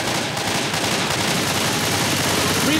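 Rapid gunfire fills a hectic Left 4 Dead 2 zombie fight, with dense, continuous shots and loud broadband blasts running nonstop at close range.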